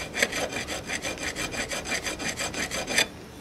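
Hand file rasping across a metal roller rocker arm during a repair, about fourteen steady back-and-forth strokes in even rhythm, close and fairly loud, alone with no talking.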